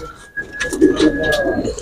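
Soft, low coos of champion stamped pigeons close by, with a person talking over them and a faint steady tone in the background.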